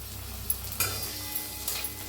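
Chopped tomatoes and ground masala paste frying in a pan, a soft, continuous sizzle with a few light spoon scrapes and taps, heard close and quiet.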